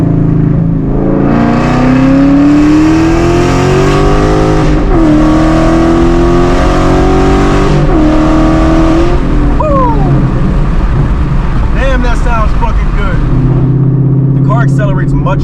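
A Mustang fitted with American Racing 1-7/8 inch long tube headers roars loudly close up, engine pitch climbing steadily through a gear, dropping on a downshift, then pulling hard again, with a voice talking over the later part.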